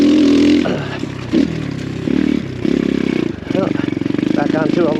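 A light X Pro Storm 150 DLX dual sport motorcycle with a small 150 engine on a trail. It sounds loud and close, revving up and dropping off in uneven bursts with clattering from the rough ground.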